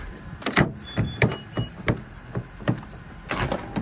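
A 2019 Honda CR-V power tailgate closes after a button press, giving a series of mechanical clicks, thumps and a short motor whir. The sounds are close and fairly quiet.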